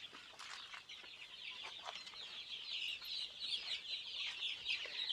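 Sonali chickens on a small poultry farm cluck and chatter in a dense, overlapping flock, with repeated sharp calls from several birds at close to moderate range and no talking.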